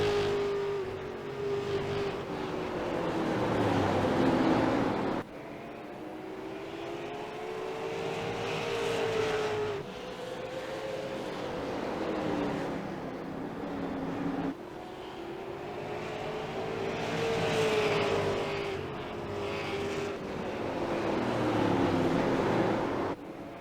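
Race cars lapping New Smyrna Speedway in a late-race 150-lap event, engines droning and rising and falling in pitch as cars pass in repeated sweeps, fairly distant, with no voices.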